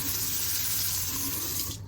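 Water runs steadily from a tap into a very deep sink in Hong Kong, a close, loud continuous splashing rush that stops abruptly at the end.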